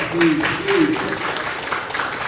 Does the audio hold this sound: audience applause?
yes